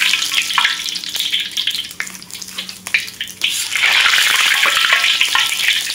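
A crispy omelette fries in hot oil, sizzling and spitting loudly where water meets the fat. Scrapes and clatter from stirring break in now and then, and the hiss grows denser and brighter in the last two seconds.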